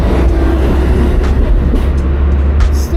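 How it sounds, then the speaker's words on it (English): A city tram rolls past on a street in a loud, steady rumble with a low rail drone that stays strong and close for the whole stretch. "We have a lot of trams"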